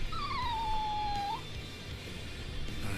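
A single drawn-out dog howl from the BLEACH Rebirth of Souls video game, a high wavering wail that slides slowly downward and lifts at the end, heard moderately close over a steady noisy background bed, with no speech.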